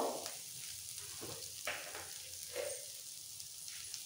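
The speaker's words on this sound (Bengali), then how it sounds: "উচ্ছে আর কুমড়ো খুব ভালো করে ভাজা হয়ে গেছে, এরকমভাবে ভেজে নিতে হবে।" Bitter gourd and pumpkin fry in a pan for a chechki, giving a steady close sizzle with soft stirring scrapes throughout, no voices.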